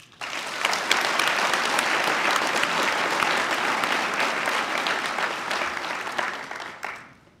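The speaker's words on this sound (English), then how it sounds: "Please give a big round of applause for them." A crowd at a white coat ceremony for a graduating class gives sustained, full applause that stays loud throughout, then tapers off quickly at the very end.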